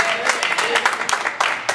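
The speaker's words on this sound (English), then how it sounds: "Give him another round of applause, please." Audience applause at a gospel cafe music performance, a short burst of dense clapping with some crowd noise mixed in, fairly loud and close.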